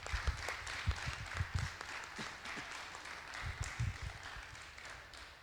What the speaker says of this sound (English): Help me give her a welcome with a round of applause